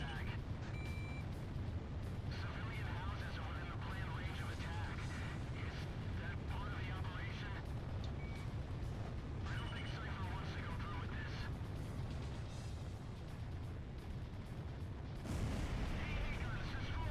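Bomblet explosions in Ace Combat Zero rumble continuously as dense, overlapping blasts and booms under a steady roar of jet engine noise, with someone talking over the barrage.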